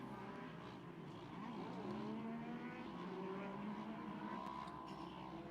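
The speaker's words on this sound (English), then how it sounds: "The YXE Yamaha sound a lot like a motorcycle, two-stroke motorcycle" Yamaha YXZ side-by-side vehicles racing, alongside a Polaris RZR, in a live Sportsman race in Chicago, with a steady, distant engine drone whose pitch rises and shifts as the machines rev, and crowd noise underneath.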